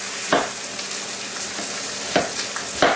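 A coarsely cut whole onion sizzles in a pot of hot fat for a pot roast, a constant hiss broken by three or four brief stirring knocks.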